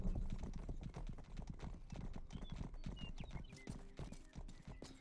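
A horse in the video game Rustler trots with a rapid steady clip-clop of hooves and gives a brief whinny, hoofbeats close and continuous over faint game ambience.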